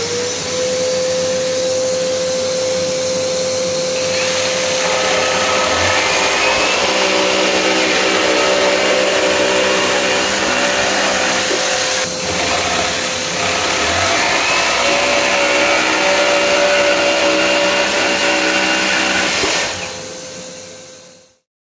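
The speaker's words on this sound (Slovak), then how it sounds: "pre ukážku som si doniesol aj odsávač alebo teda obyčajný vysávač" Ordinary household vacuum cleaner running loud and steady as dust extraction alongside a Parkside Performance PSSPA 20-Li A1 cordless jigsaw, a continuous whine with small pitch shifts, cutting off near the end.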